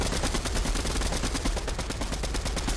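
Rapid automatic assault rifle fire in Fortnite, a dense continuous burst of evenly spaced shots filling the whole stretch, loud and close with no talk over it.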